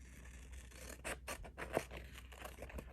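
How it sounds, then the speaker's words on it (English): Scissors make soft, scratchy snips while cutting roughly around a paper sticker for a scripture journal, faint and close in a quiet room. "Okay, I need to cut this out."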